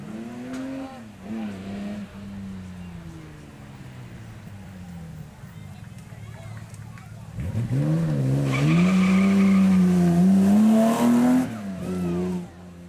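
A DVR1 supercar with a full aluminium body launches on the track at the Beaulieu Supercar Weekend, its engine climbing through loud revving pulls with tyre squeal, building to a roaring peak before easing off.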